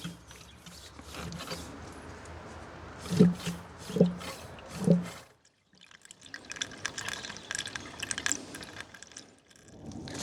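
Engine coolant trickles and drips as a Vauxhall Corsa D cooling system is topped up, faint liquid sounds with a few soft knocks, then a short silence before more quiet pouring.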